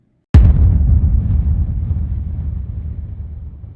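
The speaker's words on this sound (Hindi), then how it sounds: "यहाँ विज्ञान भी उतरता है। तोपें।" A single loud cannon blast of battlefield artillery at the Battle of Panipat, 1526, a sharp onset that rolls into a long, heavy low rumble fading slowly over several seconds, with no voices.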